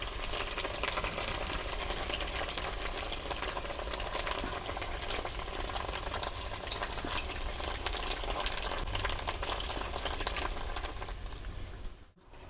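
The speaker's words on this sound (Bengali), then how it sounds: "বড়াটা আমার সব ভাজা হয়ে গেছে" Lentil and fish roe fritters fry in hot oil with a steady, dense sizzle and crackle, close and even throughout, stopping abruptly at the very end.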